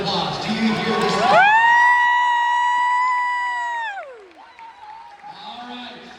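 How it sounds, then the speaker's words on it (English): A school audience erupts in a brief burst of cheering and shouting, followed by a long, steady, wailing tone that holds and then slides down before the crowd noise returns more faintly. "please give it a round of applause"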